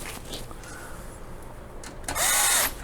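A powered screwdriver briefly whirs while driving a screw into a computer's front I/O panel, a loud short burst near the end after quiet handling and faint clicks.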